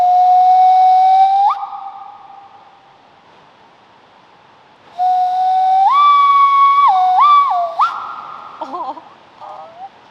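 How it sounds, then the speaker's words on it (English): A loud, breathy hand whistle holds a long note, stops, then returns with stepped pitch changes and wavering trills, hissy and close. "teaching me how to hand whistle"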